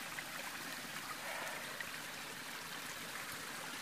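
Small trail stream near a shelter, a faint steady trickle and splash of running water, quiet and continuous with no voices.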